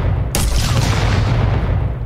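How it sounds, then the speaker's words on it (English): Sharp projectile explosion in an Unreal Engine 5 game, a single sudden boom followed by a rumbling, decaying tail with low-end roar, loud and alone. "If we hit a wall, we have the sound, the explosion, and the ball rather than bouncing around"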